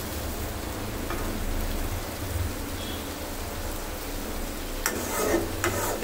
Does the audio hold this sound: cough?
no